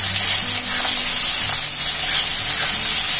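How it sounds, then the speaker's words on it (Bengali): Onions, lightly salted, fry in oil on low heat for biryani, giving an even, continuous hiss that stays close and constant for the whole stretch without any talking. "পেঁয়াজগুলো কম আঁচে আমি ভেজে নেব।"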